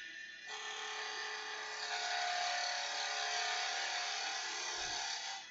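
A skew chisel cuts wood on a lathe while turning a honey dipper, giving a steady, loud, close whirring hiss that holds evenly for several seconds before a faint low thump near the end.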